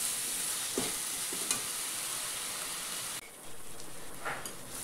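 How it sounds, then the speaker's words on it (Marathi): Ground wet masala sizzling and frying in a pan with browned onion for a village-style matki curry, a steady hissing crackle with a few stirring scrapes, close and alone. "त्याच्यात आता हा वाटलेला मसाला टाकते. या मसाल्याला पण छान परतून घ्यायचं."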